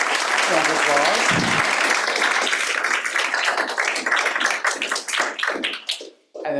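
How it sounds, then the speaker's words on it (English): An audience at a talk on psychedelics breaks into a big round of applause for a university team, dense clapping that gradually thins into scattered individual claps before dying away. "So a big round of applause."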